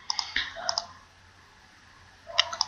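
Mouse clicks on a computer working in tax declaration software, crisp close clicks in quick pairs at the start, then a quiet gap, then another burst of clicks near the end, with no speech.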